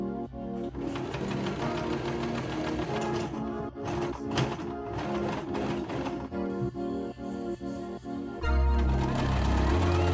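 A sewing machine stitches a skirt, running in a loud, continuous mechanical whir with rapid needle rhythm and a brief change in motor tone near the end.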